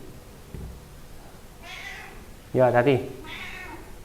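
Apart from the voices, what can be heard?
cat meowing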